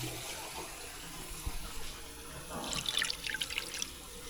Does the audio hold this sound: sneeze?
no